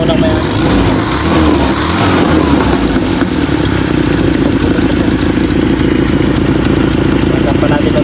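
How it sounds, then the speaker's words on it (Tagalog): Toyota 5K engine fitted with upgraded racing headers running steadily, a loud, raspy mid-pitched exhaust drone heard up close, while someone talks over it. "Yung ingay niya sa headers mga kapatid, upgraded yung headers niya."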